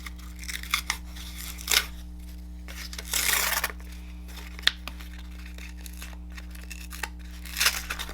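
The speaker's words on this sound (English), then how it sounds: "I just take a pair of paper snips and kind of gouge at it a little bit to get it started, and then you just start ripping it off" Paper torn by hand after being gouged with paper snips for a rough-edged card, heard as faint, short ripping and crinkling bursts spaced apart over a steady low hum.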